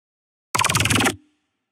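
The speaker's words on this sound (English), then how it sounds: "there is a growl which sounds like this" A single brief, loud synth growl with a rapid, gritty wobble, cutting off abruptly and leaving silence.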